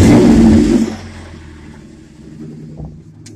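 A 2007 GMC truck with a 4.3L engine, five-speed manual and dual exhaust pulls away, its loud, deep exhaust rumble strong at first, then easing to a steadier drone.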